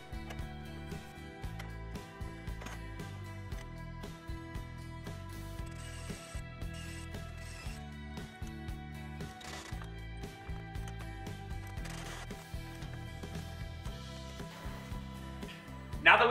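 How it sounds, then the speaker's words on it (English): A socket set ratchet tightens a caster nut on a workbench lifting mechanism, giving continuous fine clicking and mechanical rattling at moderate level, with a louder knock right at the end. "I tighten by hand and then secure with a socket set."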